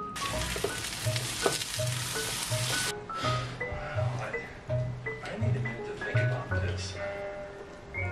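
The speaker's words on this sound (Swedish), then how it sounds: "Jag håller på här och lagar mat och fixar disk." Dinner fries in a pan with a bright hiss and crackle, loud at first and then quieter, broken by bursts of stirring and scraping while someone speaks.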